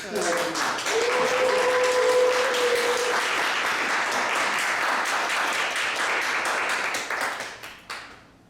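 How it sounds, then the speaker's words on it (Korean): Congregation at a Wednesday praise worship service in a church applauds loudly and steadily for about seven seconds to welcome a missionary, with a sustained tone over the first seconds before the clapping fades out at the end. "나오실 때 우리 큰 박수로"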